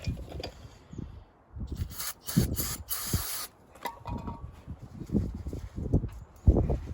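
Brake cleaner sprayed from an aerosol can onto brake caliper guide pins of a 2006-2011 Honda Civic during a pad and rotor job, in a couple of short loud hissing bursts amid rubbing and handling noises.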